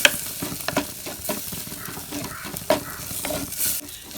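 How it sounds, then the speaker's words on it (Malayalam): Chili, turmeric and coriander powders being stirred into a sizzling fried mixture for a fish chili curry, with continuous close frying hiss and sharp utensil scrapes and clicks against the pan. "മുളക് പൊടി കുറച്ച് മഞ്ഞൾപ്പൊടി ഇട്ട് കൊടുക്കാം കേട്ടോ കുറച്ച് മല്ലിപ്പൊടി ഇട്ട് കൊടുക്കുക നന്നായിട്ട് ഒന്ന് മിക്സ് ചെയ്യും"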